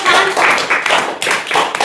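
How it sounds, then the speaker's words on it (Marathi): Students in a classroom clap their hands together in a short burst of quick, uneven claps, close and fairly loud. "टाळ्या वाजवायच्या"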